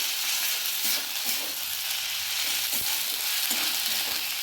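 Onion and ginger-garlic paste fry in hot oil in a kadai: a steady, close hiss and sizzle with occasional soft stirring scrapes and no voices.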